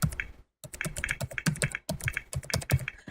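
Rapid, uneven keystrokes on a computer keyboard as a game cheat code is typed in, close and crisp, with a brief pause early on.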